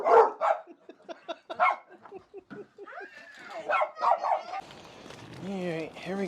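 Dogs yip and bark in short, excited bursts while out on a rainy walk, fairly close and moderately loud, mixed with whimpers and a person talking to them.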